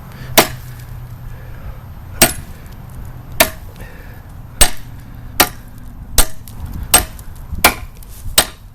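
A Bowie knife chops into wood in about eight sharp, loud strikes spaced roughly a second apart, each a crisp impact with a brief ring, heard alone without talk.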